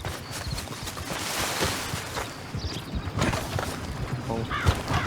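A horse's hooves clip-clop in Red Dead Redemption 2, with a run of hoofbeats amid game ambience and some voice in the mix.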